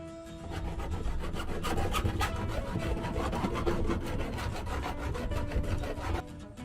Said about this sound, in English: The cut edges were filed to smooth out all the rough edges.